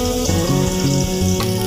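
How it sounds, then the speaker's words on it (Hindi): Crushed garlic frying in three tablespoons of hot oil in a kadai, a steady close sizzle with bubbling crackle running throughout, no voices. "इसमें हमने लहसुन डाल दिया है थोड़ा सा कूट कर"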